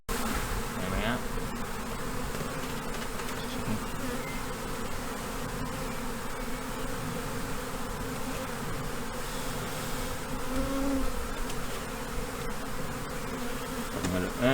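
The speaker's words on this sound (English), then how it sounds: "Those are all just worker bees." Worker bees from a swarm buzzing around a hive being transferred, a dense continuous drone of many insects at close range with individual bees flying past.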